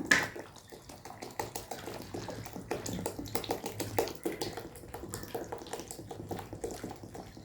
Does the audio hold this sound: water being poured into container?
yes